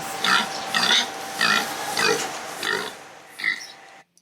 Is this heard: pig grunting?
yes